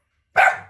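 A single short, sharp bark from an American Bully dog, close and loud, lasting under half a second after a moment of silence.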